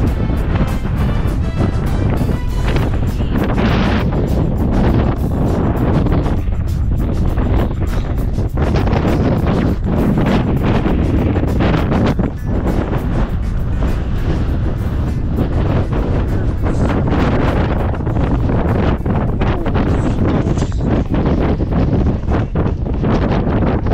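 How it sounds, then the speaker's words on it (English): Strong wind roaring continuously across a microphone high on Aconcagua during a mountain expedition, loud, gusty buffeting with no letup for the whole stretch. "I can't hear anything because it's so windy."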